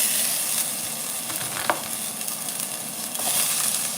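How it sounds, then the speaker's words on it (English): Onions sautéing in avocado oil in a pan make a steady, close frying hiss with a few soft stirring scrapes throughout. "I'm gonna saute some onions"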